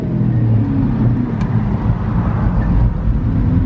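Pagani Zonda S Roadster V12 engine cruising, a steady deep droning rumble with constant low engine tone and road noise, close and continuous throughout.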